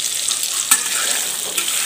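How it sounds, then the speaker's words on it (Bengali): Fish frying in hot oil gives a loud, close, steady sizzle with a single brief crackle, heard alone with no voices. "দেখুন এই যে মাছগুলো আমার ভাজা হয়ে গেছে"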